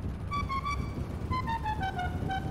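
A go-kart's car horn in GTA V honks in two short bursts, each a bright electronic tone that bends slightly downward, with a low engine hum underneath.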